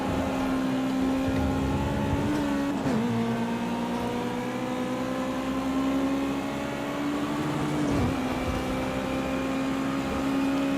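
Ginetta GT5 race car engine droning steadily at the Nordschleife in a racing game, a constant buzzing tone that dips briefly twice as gears change, close and loud with no talk.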